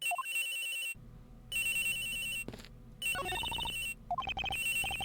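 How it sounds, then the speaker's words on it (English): Electronic cell phone ringtone from a murder-mystery courtroom video game, a melodic chiming tune that plays in repeated bursts separated by short gaps of quiet. "Agent Hicks's phone! It's ringing from somewhere"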